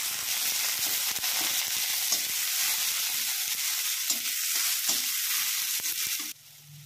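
Onion and green chili sizzle and crackle in hot oil in a pan, a steady close frying hiss with small stirring clicks, cutting off near the end.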